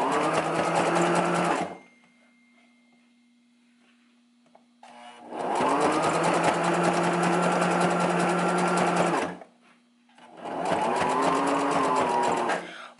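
A sewing machine stitches hair wefts onto a wig cap, running in three long steady whirring bursts separated by quiet pauses, with a faint hum between runs.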